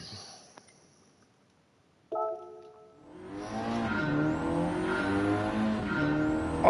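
A Gran Turismo 7 racing car starts with a short burst and then revs up and holds a loud engine note. Brief tire squeal rises over the steady roar.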